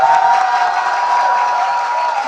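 Church congregation at an autumn revival service cheering and clapping to encourage the children worshipping next door, a steady continuous roar of shouts and applause throughout, with a sustained tonal hum running underneath.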